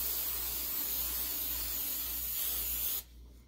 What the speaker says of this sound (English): And you just want to very lightly spray the sheet of paper.